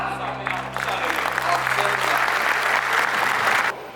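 A studio audience bursts into loud applause for the illusionists Kıvanç and Burak on a Turkish stage show, with sustained music tones underneath. The clapping swells and stays dense before cutting off abruptly near the end.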